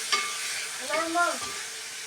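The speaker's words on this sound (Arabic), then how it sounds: "ادي بقى الجمبري بتاعنا بسم الله، ونبتدي نحطه، تمام. وبرده هنروح مقلبين" Shrimp frying in a pan while being stirred, a quiet hiss broken by a short clatter and a couple of soft scraping strokes near the middle.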